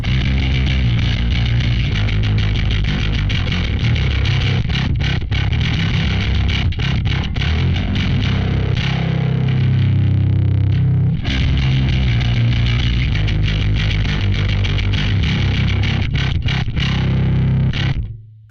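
A heavily distorted, gritty bass guitar through a Joyo Monomyth preamp with an impulse response plays a thick, driving line, loud and continuous with short breaks, sounding saturated and fuzzy.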